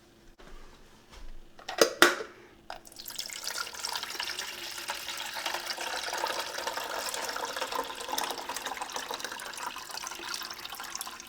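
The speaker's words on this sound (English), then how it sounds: "while I fill it with water" Water pours from a kettle into a container for sowing tomato seeds indoors; after a few clunks and knocks, a steady splashing, rushing pour runs continuously for several seconds, close by.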